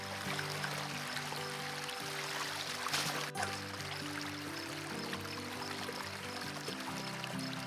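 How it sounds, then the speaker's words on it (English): A garden hose sprays water over clogged, slime-covered duck pond filters, a continuous close rushing stream with a brief louder splash midway, heard alone without talk. "So we need to hose that down and get it clean."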